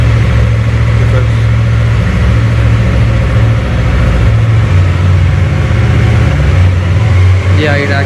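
A Yamaha R3 motorcycle engine idles with a steady low hum after an air filter change, close and loud, with a voice talking over it.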